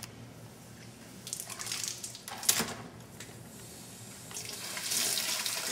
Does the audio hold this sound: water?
yes